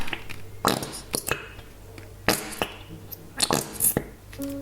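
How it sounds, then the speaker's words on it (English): A bottle of Schminke acrylic paint is squeezed, giving several short, wet, fart-like sputters and squelches close up in irregular bursts. "And we do have a little bottle fart."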